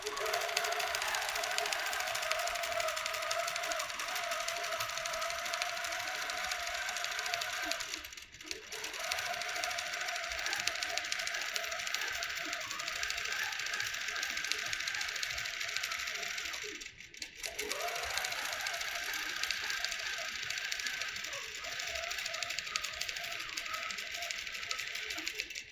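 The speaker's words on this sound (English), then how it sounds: "And now it's going to stitch that design that we placed within those markings." A QCT6 Plus quilting machine stitches a design in a long, steady, buzzing run that pauses briefly twice, heard alone and fairly close.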